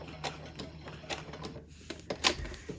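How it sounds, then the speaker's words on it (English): A home sewing machine stitches fabric for a small gift bag, quiet repeated mechanical bursts of running needle with short pauses, close but low in level, with no talking. "I'm just going to sew down to that first line. Then when I get to the line, I will do a back stitch."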